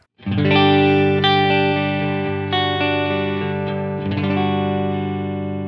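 A clean electric guitar on the neck pickup of a Vigier Expert Strat-style guitar through a Line 6 Helix with chorus off rings out in sustained chords, smooth and undistorted, with a fresh strum partway through and another near the end.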